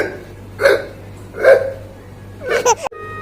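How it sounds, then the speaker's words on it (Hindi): Three sharp vocal hiccups from a man at night, spaced under a second apart, the last one followed by a brief catch of breath, close and fairly loud against a quiet steady hum. "इतनी हिचकी क्यों आ है?"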